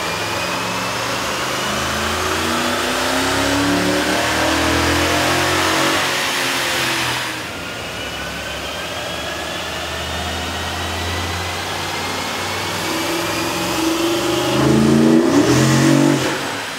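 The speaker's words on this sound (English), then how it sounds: "we ran the vehicle on the dyno to test the sound comparison versus the stock intake." A 2007-2009 Toyota Sequoia or Tundra fitted with a K&N cold air intake revs on a dyno, the engine note climbing and falling in loud, close sweeps, with a strong surge near the end.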